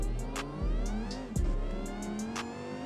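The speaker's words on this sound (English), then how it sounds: "The supercharger sounds crazy in this car." A supercharged Lamborghini Huracan STO engine in Forza Horizon 5 revs up and down with a whining supercharger whir, shifting pitch in several surges, loud and close, no talking.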